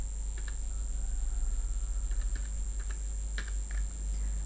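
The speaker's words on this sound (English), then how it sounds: "type here regedit" Keys clatter on a computer keyboard as regedit is typed on a Windows 11 PC, a short run of light, close clicks over a steady electrical hum and whine, with no talking.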